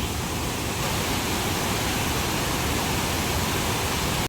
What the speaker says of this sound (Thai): น้ำตกที่แบบว่าไว้ชมวิวเฉยๆ เพราะว่ามีทั้ง โขดหิน แล้วก็น้ำแรงมากๆเลย